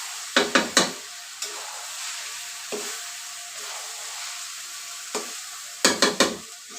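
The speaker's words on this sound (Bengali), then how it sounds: "চাউলটা ভেজাও নেওয়া যাচ্ছে, আবার মশলাটা সুন্দরভাবে কষানো হচ্ছে" Washed rice being stir-fried with spiced chicken in a wok for chicken biryani, a steady sizzle broken by clustered scraping bursts of stirring near the start and end and a few single scrapes between.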